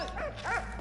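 A dog in the video game Valiant Hearts gives two short, fairly quiet yipping barks in quick succession.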